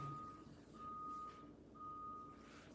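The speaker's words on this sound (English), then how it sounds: "that's the garbage truck." A garbage truck reversing outside gives three evenly spaced electronic beeps, steady and moderately distant over a low engine rumble.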